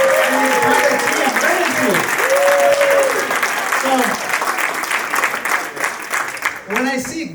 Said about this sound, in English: Can you give a big round of applause to VGP, Dr. Vijay Prabhakar and the entire team.